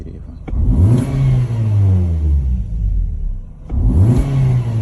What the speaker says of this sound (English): So what you have to do is give it a snap throttle and see if there is any changes.